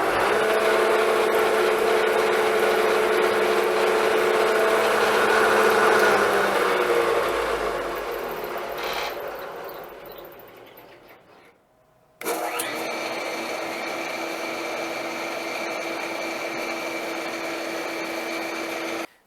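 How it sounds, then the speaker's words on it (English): Parks 12-inch wood planer running in a shop, a steady loud motor whine that winds down to silence and then starts up again at a constant drone, close by. "so this is my Parks 12-inch planer"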